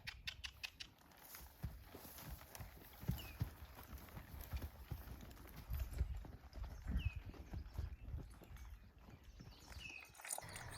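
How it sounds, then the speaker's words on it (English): Draft horses walk into a barn toward their stalls, their hooves clip-clopping in a steady, uneven patter on the floor at close range, with faint rustling and no talk. "Well-trained draft horses will go into the barn and walk right up into the stall where they normally stand."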